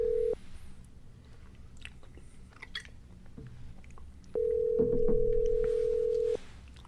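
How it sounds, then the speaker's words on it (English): Phone ringback tone on an outgoing call: two steady electronic ring bursts, one brief at the start and a longer one later, with quiet room sounds and faint chewing-like noises between them. "Ooh, it's ringing."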